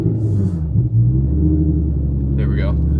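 A Nissan 350Z under repair, driven with its throttle body issues, gives a loud, steady low engine rumble from inside the car as gears are shifted, with a person talking over it.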